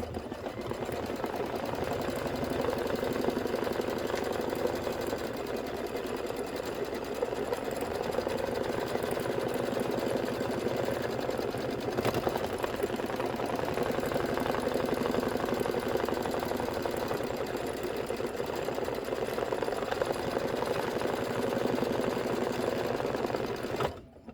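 Embroidery machine stitching a tack-down line on fabric for a chenille watermelon hot pad, a steady rapid mechanical chatter with a low motor hum that runs continuously and evenly for the whole stretch before stopping at the end.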